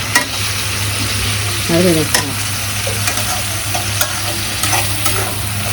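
Small shrimp with turmeric powder fry and get stirred in a hot pan, giving a steady close sizzle with scraping spoon strokes and occasional clicks; no voices.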